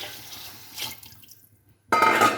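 Half a cup of water poured into a cooking pot for chicken mandi: a soft clatter, then a sudden close splashing pour that stays loud through the last half second.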